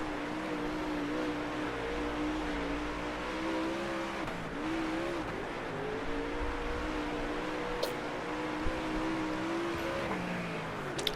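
A dirt racing car's engine roars steadily in World of Outlaws: Dirt Racing 24 at Huset's Speedway, a loud, continuous drone with pitch rising and falling through a lap, and no one talking.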